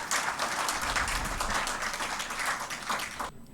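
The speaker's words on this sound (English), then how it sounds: "Let's all welcome her with a big round of applause." An audience gives a round of applause welcoming a guest speaker to a Sunday talk, a dense, even wash of clapping that stays steady before ending abruptly.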